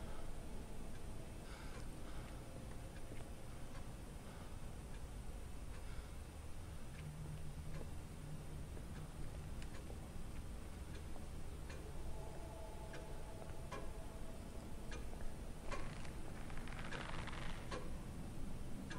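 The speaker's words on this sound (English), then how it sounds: "That was just a clock." A clock ticks steadily in the horror video game Pineview, faint and regular under a quiet, hissy ambient background, with no talking.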